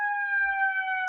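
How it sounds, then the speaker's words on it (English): A fire engine siren in New York City passing by holds a steady, layered wail at moderate volume through the short moment. "There's a fire engine going by."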